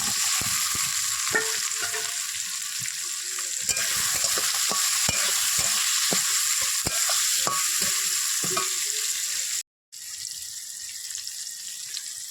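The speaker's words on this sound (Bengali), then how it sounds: "এবার ভাজা আলুগুলো দিয়ে দেবো।" Fried potatoes tipped into a pan with tomato and salt for a Bengali village dish, giving a loud steady sizzle close by with stirring scrapes throughout and a brief cut near the end.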